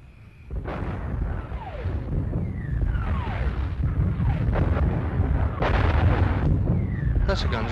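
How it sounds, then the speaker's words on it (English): Artillery guns of an army fire in a 1946 war film, a series of heavy rumbling booms and blasts with whistling shells, mid-distance and steady under background noise. "That's the guns of the Second Army."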